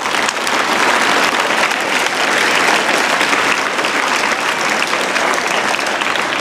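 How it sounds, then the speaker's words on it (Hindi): A school crowd claps loudly and steadily for a girl who topped the Haryana board exams with 595 marks, dense continuous applause with no talking. "तो एक बार जोरदार ताड़ी बजाओ भाई सारे"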